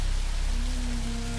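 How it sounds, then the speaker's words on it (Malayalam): Heavy, pouring rain heard from indoors, a dense steady hiss that fills the short stretch, with a faint low tone running underneath. "നല്ല മഴ, കോരിച്ചൊരിയണ മഴ."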